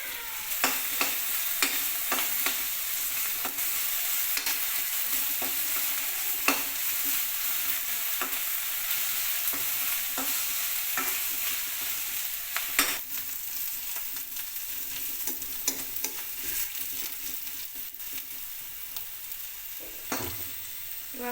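Vegetables with capsicum stir-fry in a pan for vegetable fried rice, with a steady sizzle and frequent scraping clicks of a spatula stirring against the pan.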